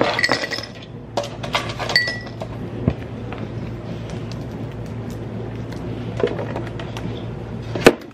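Ice cubes clink and rattle into a new cup, with a cluster of bright, close clicks at the start, scattered lighter taps later and a sharp final clink, all without speech.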